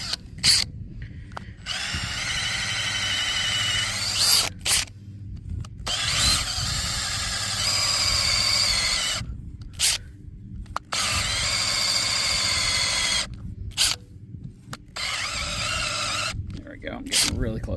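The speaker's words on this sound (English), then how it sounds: "And I just drill down a little bit, pull it out, get the dirt off." A power drill boring into soil whirs in repeated bursts with short stops between, steady and close, while someone talks over it.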